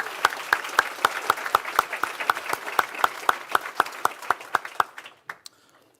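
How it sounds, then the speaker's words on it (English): A keynote audience gives a round of applause, a full crowd clapping with a strong, almost rhythmic beat of accented claps, staying loud for about five seconds before quickly dying away to a few scattered claps. "Can we please give another round of applause?"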